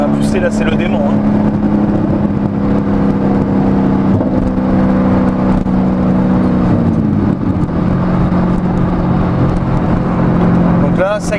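An Audi RS5 cruising on a highway at around 130 km/h, its engine a steady low hum with a drop in pitch as it shifts into sixth gear, heard from inside the cabin under someone talking.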